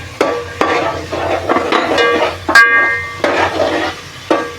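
Onions go into a hot pan for a prawn and potato masala gravy, sizzling steadily up close while a spoon stirs and clinks against the pan at irregular intervals.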